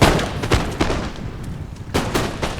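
Musket volleys in a Napoleon Total War multiplayer battle on a jungle map: a few sharp, booming shots near the start, a scattered pause, then another cluster of loud reports, alone without talk.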